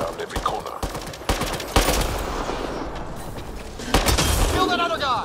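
Rapid bursts of gunfire from the Mass Effect Andromeda video game, loud and dense, with repeated volleys and heavy impacts throughout and a voice talking over the shooting.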